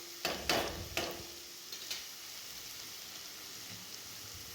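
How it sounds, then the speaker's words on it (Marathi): Garlic and green chilli paste sautéing in hot oil for coriander fritters, with a steady soft sizzle and a few sharp stirring scrapes near the start, close and without talk. "ती पेस्ट मी तेलामध्ये ॲड करते आणि थोडंसं परतवून घेते"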